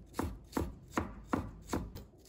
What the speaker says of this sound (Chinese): 葱白切成小粒